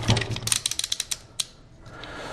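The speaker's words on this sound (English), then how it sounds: "to load the screws, simply slide them in the back to the first empty hole" A strip of 1 5/8 inch screws slides into the back of a Senco autofeed screw gun, giving a quick run of sharp plastic-and-metal ratcheting clicks, loud and close, then a quieter tail.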